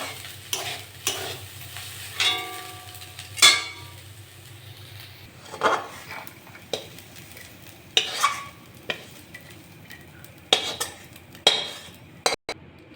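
Fried greens with potato and shrimp being lifted off a pan, with a soft sizzle beneath intermittent scraping stirs and several sharp metal utensil clinks, close by, with no talking.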